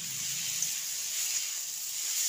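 Food sizzles and hisses steadily in a pan after sugar is added, a bright, even frying crackle with no voices over it.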